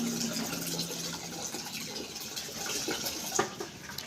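Water poured from a bucket onto garden plants in the morning, a continuous splashing gush that stays moderately close and steady with no talk over it.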